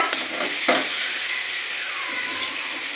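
Potatoes and water go into spices frying in a pan, giving a continuous close sizzle and hiss with a brief clatter of stirring early on.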